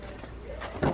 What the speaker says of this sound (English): The door. Bit squeaky, needs some oiling, doesn't it?